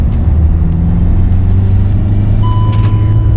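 Hyundai i20 1.5 diesel hatchback pulling hard through its turbo range, a steady low engine drone close by with faint high whistling tones over it, no talk.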